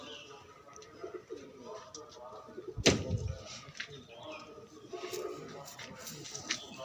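Pigeons coo softly in a pigeon loft in Ranihati, Howrah, a faint low murmur broken by one sharp knock partway through, with voices in the background.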